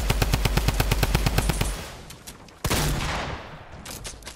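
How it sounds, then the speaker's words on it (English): Rapid automatic gunfire from a video game rattles in a fast, even burst of loud shots, then a sharp blast and a fading rumble follows, with no voices. "They're shooting us down."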